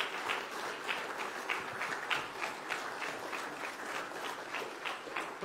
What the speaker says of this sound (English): Really give them a hand clap of appreciation.